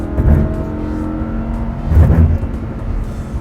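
A Lamborghini engine in race mode revs hard, with a strong surge early, a brief lull and a second louder push of acceleration, close and loud with no talk.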